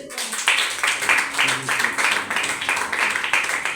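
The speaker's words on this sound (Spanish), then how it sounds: "Dale el aplauso a Él." Church congregation applauding at a worship service, a steady crowd clap with rhythmic bursts roughly every half second, fairly loud and continuous with no clear speech over it.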